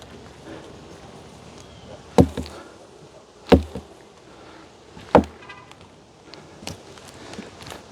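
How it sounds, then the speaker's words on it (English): Honeybees hum softly around an opened hive box during beekeeping, a faint continuous buzz broken by a few sharp knocks and thuds of handled frames and boxes. "More bees."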